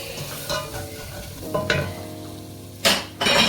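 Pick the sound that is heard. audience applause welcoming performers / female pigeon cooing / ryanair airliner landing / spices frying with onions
spices frying with onions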